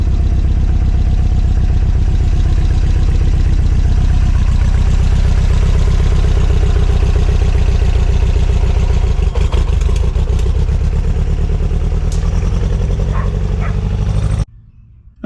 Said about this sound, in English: It seems to be fighting down really low, but once I get the revs up, it's not a problem.